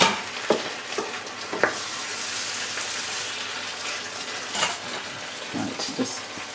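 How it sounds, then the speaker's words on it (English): Mince frying in a pan is stirred, giving a steady sizzle with a few louder scraping and clattering stirs at intervals, close by. "give it a good stir, add the mince back in"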